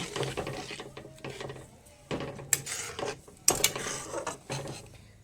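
Milk for Gujarati carrot halwa stirred in a metal pot, repeated scraping and clanking strokes of a spoon against the pan in an uneven rhythm, close and fairly clear, with sharp metallic clicks between strokes.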